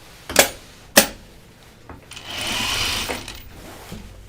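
A sewing machine runs a short stay-stitching pass along the top edge of a linen laundry basket: a steady whirring burst of about a second, preceded by two sharp clicks and followed by a few softer taps, close and clear.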